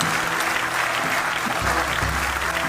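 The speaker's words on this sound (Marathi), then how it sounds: "ज्याला ज्याला बायको आहे त्यांनी टाळ्या वाजवा" A live audience at a Marathi comedy performance claps in a loud, continuous burst for nearly three seconds, close and even, with a low hum underneath and no speech.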